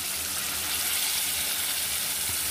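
Large pieces of fatty fish frying in oil give a dense, steady crackling sizzle, loud and close without pause and with no talk.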